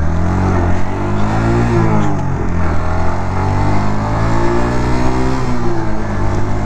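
A 2008 Suzuki GZ250 motorcycle accelerating hard, its engine climbing steadily through the gears in a loud, close, continuous drone with no voices.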